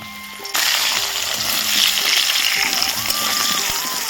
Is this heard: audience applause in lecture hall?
no